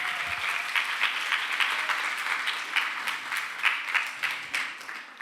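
Lively applause from a school audience at a playback show and teachers' band concert, many hands clapping in a dense, steady patter with a few louder bursts, swelling slightly toward the end.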